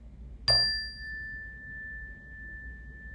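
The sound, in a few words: meditation bell ringing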